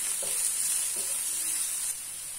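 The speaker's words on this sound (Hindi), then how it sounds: "मीडियम फ्लेम पे रखें और इस प्याज को सॉटे कर लें" Onions sautéing in a pan over a medium flame, a soft continuous sizzle with a few faint stirring scrapes, fairly quiet and steady with no talk.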